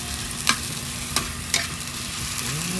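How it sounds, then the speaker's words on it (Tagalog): Rice for Filipino garlic fried rice (sinangag), mixed with vegetables, stirred in a frying pan, with a steady sizzle under several sharp scraping strokes of the spatula; no one talks. "Pag nailagay na si kanin, hahaluin mo na para malasa yung gulay na nilagay plus mga rama."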